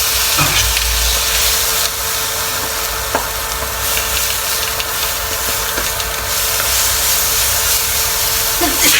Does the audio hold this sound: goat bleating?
no